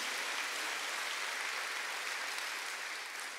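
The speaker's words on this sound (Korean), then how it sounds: "박수를 하세요." A church congregation claps together in a sustained, dense burst of applause that fills the room evenly and fades slightly toward the end, with no voices heard over it.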